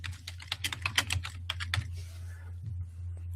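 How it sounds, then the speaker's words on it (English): Typing on a computer keyboard while entering text in design software: a quick, irregular run of close, crisp key clicks that thins out toward the end over a steady low hum. "So if you need text, you can put the text box and start typing."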